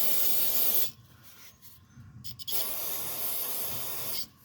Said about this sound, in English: Give it another spray of brake parts cleaner.